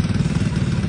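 A motorbike engine runs steadily nearby with a low, continuous rumble and some light clatter, with no break over the brief moment.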